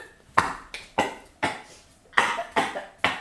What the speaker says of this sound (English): I didn't hear you. I was coughing.